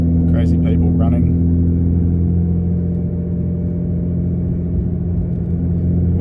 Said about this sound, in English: Excuse all of the drone from my exhaust